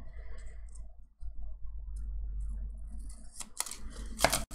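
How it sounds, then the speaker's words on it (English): Scissors snipping around a printed planner sticker, cutting along a figure's dress: quiet handling and paper rustle at first, then several sharp close crisp cuts toward the end, with no voices. "I need to cut off where her dress is from here."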